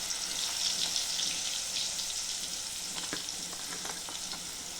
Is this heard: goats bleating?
no